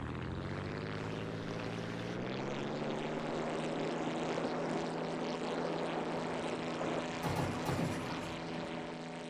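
A propeller plane takes off in a video game, its engine a loud, sustained drone whose pitch rises slightly while it runs, with a brief rattling burst near the end.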